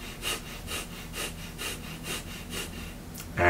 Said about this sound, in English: It's a rapid breath technique through the nose,